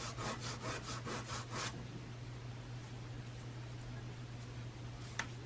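A wooden mitre joint for a model railway station canopy rubbed on an abrasive surface, a quick run of about seven rhythmic scraping strokes, close and fairly loud, then a faint steady hum with one sharp tap near the end.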